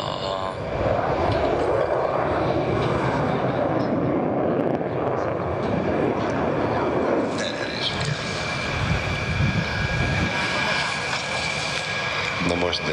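A Royal Netherlands Air Force General Dynamics F-16AM Fighting Falcon roars steadily and loudly throughout an aerobatic display, with a broad, sustained engine rush and a commentator speaking over it.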